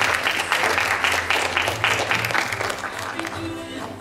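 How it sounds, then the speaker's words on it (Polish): An audience at a regional youth theatre and vocal festival in Poland claps steadily for a school theatre group, the applause fairly loud at first and thinning out toward the end, with a voice speaking over it near the close. "I brawa, oczywiście."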